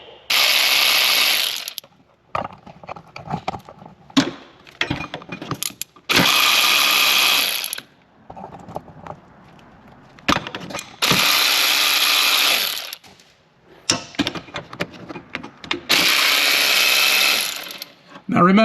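A hand ratchet works a water pump pulley loose on a Daihatsu Midget II engine, sounding in four or five loud, fast clicking bursts separated by quieter gaps with faint handling noises.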